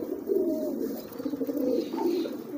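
Domestic pigeons coo steadily at close range, with soft, throaty, repeated calls running throughout and no other sounds.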